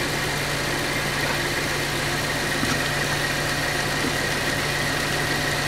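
A 2015-2019 Subaru Crosstrek or Outback engine idles during a transmission fluid change, a steady, even hum with a faint low drone running unbroken and close throughout.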